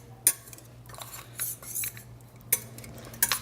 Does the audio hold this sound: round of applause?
no